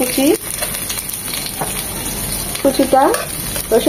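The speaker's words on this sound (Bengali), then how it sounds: "এই তেলে দিয়ে দিব 1 চামচ জিরে, এটা কাঁচা জিরা। সাথে দিয়ে দিব 2 চামচ রসুন" Cumin seeds and chopped garlic frying in hot oil for a Bengali shapla stem stir-fry, giving a steady close crackling sizzle throughout, with brief voice fragments rising over it.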